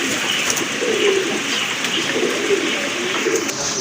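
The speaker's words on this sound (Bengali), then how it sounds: "খুবই চমৎকার এক জোড়া কবুতর" A pair of pigeons at a seller's stock coos in soft, repeated throaty murmurs. The cooing is near and steady, with no talking.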